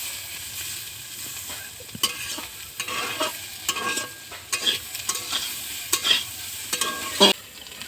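Chowmein stir-fried in a pan over a clay stove, a steady sizzle broken by repeated sharp scraping and tossing clatters of the utensil against the pan, close by, with no voices.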